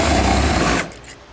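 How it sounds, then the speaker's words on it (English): A power drill bores a hole for an EcoHitch hidden front-mount trailer hitch, a loud steady whine that runs for most of a second and then cuts off abruptly into quiet. "and drill our hole right there."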